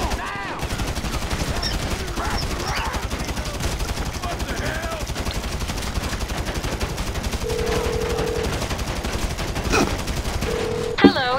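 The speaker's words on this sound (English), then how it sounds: "No! Stop shooting me," Rapid gunfire in GTA 5 Online, continuous bursts of automatic shots running throughout amid game sounds and tonal beeps, with a player's voice occasionally mixed in.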